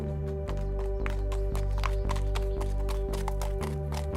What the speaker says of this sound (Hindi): लगातार कुछ घंटे घोड़ा दौड़ाने के बाद